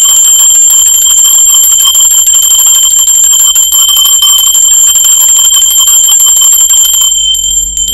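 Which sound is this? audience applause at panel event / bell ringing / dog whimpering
bell ringing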